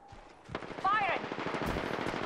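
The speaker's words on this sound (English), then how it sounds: "Firing!" Rapid automatic gunfire in the Apex Legends video game, a loud, close burst of rattling shots that starts partway in and keeps going, with game voice lines heard over it.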